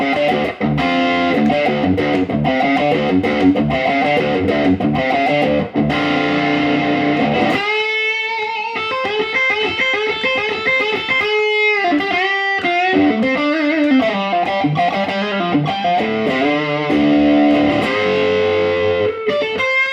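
An electric guitar fitted with Acme Guitar Works Hotrod Blacktop Tele pickups plays through heavy distortion, loud and close, with thick sustained chords and then a stretch of single-note riffing, no voices present.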